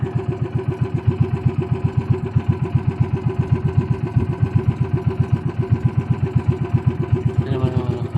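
A motorcycle engine runs close by at a steady rhythmic putter, low and loud, holding an even pace throughout while riding along.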